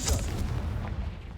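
Confringo blasting spell going off in Hogwarts Legacy, a dense low boom with a rumbling burst that stays loud and rolling through the short moment.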